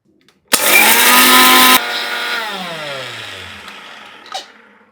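A kitchen mixer grinds jowar flour with cumin seeds into fine powder, a loud, close, dense whirring roar lasting about a second before the motor cuts and winds down with a falling whine, followed by a small clatter.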